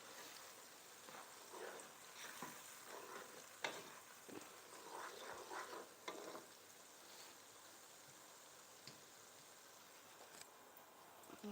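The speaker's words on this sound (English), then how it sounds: "So I keep frying." Crayfish and peppered meat frying in a pot while being stirred, a soft steady sizzle with intermittent scraping and clinking of the spoon, fairly quiet and with no talking.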